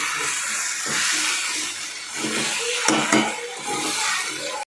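Okra frying in a pan over high heat gives off a loud, steady sizzling hiss, broken by a few soft knocks and a pair of sharp clinks from utensils against the pan.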